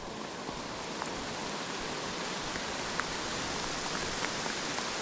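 Rain falls on a muddy wooded trail with a dense, even hiss, and scattered larger drops tick distinctly through it.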